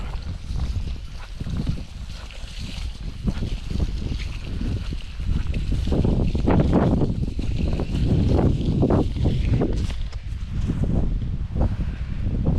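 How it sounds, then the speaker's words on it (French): Strong wind buffets and roars across the microphone in gusts, a steady rushing blow that swells louder in the middle. "il y a du vent, hein, c'est pas évident"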